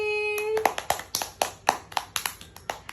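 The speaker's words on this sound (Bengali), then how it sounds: "ইয়ে হাততালি।" Hands clap in a quick, irregular series of about nine sharp claps, close and crisp, after a brief tonal sound at the start.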